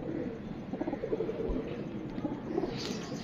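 Soft, low coos from a large pigeon repeat several times over a busy background hum, fairly close.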